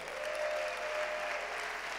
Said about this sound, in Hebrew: תעשו כפיים והרבה רעש ליושבת ראש ומייסדת המרכז